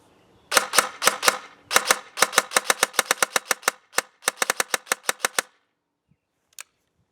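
A G&G RK74-E airsoft rifle fires in semi-auto: a rapid run of about two dozen sharp, close, crisp shots in uneven clusters, then silence with one faint click.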